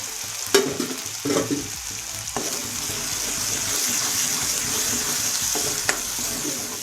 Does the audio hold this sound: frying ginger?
yes